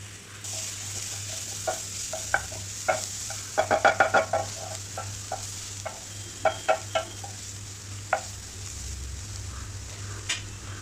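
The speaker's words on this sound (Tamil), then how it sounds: "வெங்காயமும் வரமிளகாயும் போட்டு நல்லா வதக்கிக்கோங்க" Onions and dried red chillies sautéing in a kadai, a soft continuous sizzle broken by rapid clusters of spatula taps and stirring clicks, with a low steady hum beneath.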